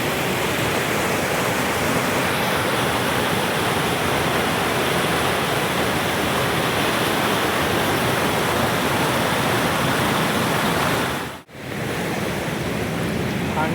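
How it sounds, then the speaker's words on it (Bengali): Rushing river current at Sittong, a steady, dense wash of flowing water heard close and loud throughout, with one brief dip near the end. "দেখো শুধু কতটা জলের স্রোত।"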